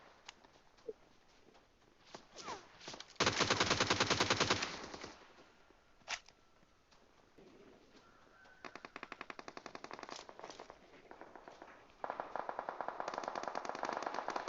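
Rapid bursts of sniper and automatic gunfire in the battle royale shooter PUBG, loud and close, in several separate volleys with quieter game ambience and movement between them.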